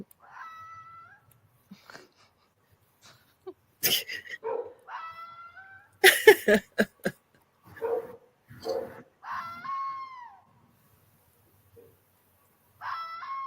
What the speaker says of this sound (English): Foxes, as it says on screen.